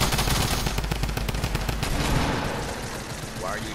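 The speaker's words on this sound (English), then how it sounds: "Why are you shooting at me?" Fast, loud automatic gunfire in the Fortnite video game, with dense overlapping bursts that rattle for about two seconds and then ease into a softer tail.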